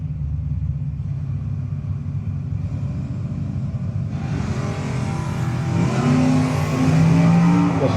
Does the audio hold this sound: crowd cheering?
no